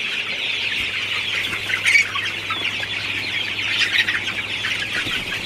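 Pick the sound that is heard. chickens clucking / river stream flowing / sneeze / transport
chickens clucking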